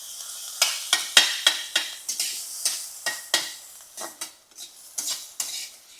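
Potato being stirred in a pan with chopped coriander and a little salt over low heat, a spatula scraping and clinking against the pan in a steady series of close strokes over a soft sizzle.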